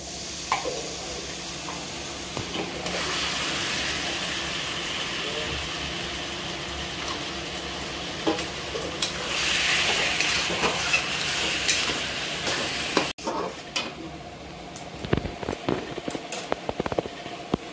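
Fish curry cooking in a pan with meat masala, a steady frying sizzle and stirring, plus scraping and clinking of a utensil near the end, with no voices.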